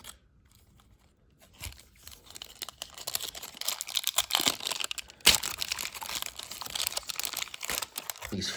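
Foil baseball card packs, 1995 Collector's Choice, are torn open and handled with crisp crinkling and crunching rustles, quiet at first and then dense and continuous, close to the listener.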